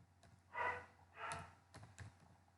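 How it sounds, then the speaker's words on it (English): Faint, close typing on a computer keyboard: a few scattered key clicks with soft breathy bursts between them in a quiet room. "you have to type Render Forest in your Google browser"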